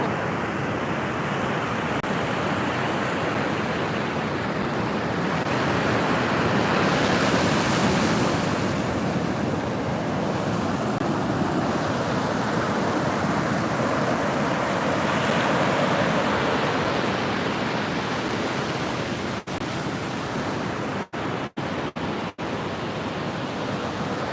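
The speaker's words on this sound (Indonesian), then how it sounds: "Aku lagi di pantai" Steady ocean surf rolling continuously onto the beach at Pantai Sawarna, a broad, loud wash of breaking waves with wind buffeting the microphone throughout and no voices.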